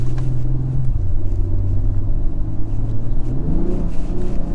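A 2022 Acura TLX Type S in Sport Plus mode accelerates hard from inside the cabin, a deep loud engine rumble that drops then climbs as it downshifts, with no talking.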